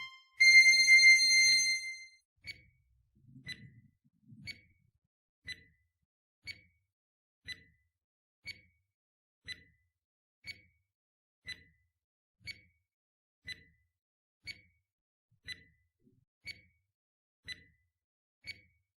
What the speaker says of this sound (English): We have 20 seconds and timer starts now.